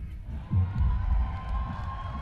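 Large crowd cheering at the Døds diving World Championship, a loud, dense roar of voices that swells and holds, heard from within the crowd.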